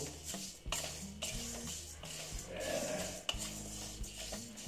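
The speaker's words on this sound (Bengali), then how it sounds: "ডালিয়াটাও আমি দিয়ে দিচ্ছি, একসঙ্গে ভেজে নিচ্ছি। ডালিয়াটা একদম হালকা রোস্ট করব।" Broken wheat (dalia) is lightly roasted in a pan, with quiet repeated scraping and stirring of a spoon against the metal, a few soft clinks, and a faint sizzle underneath.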